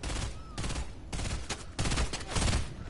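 Dense gunfire rattles through a Fortnite Reload match, with continuous overlapping bursts and rapid shots, loud and close, broken by brief pauses between volleys.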